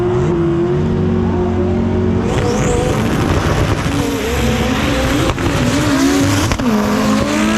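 VW Bug drag racing at the VW Nationals: loud engines rev and accelerate hard, with tire squeal and rising, shifting engine tones that carry through the whole run.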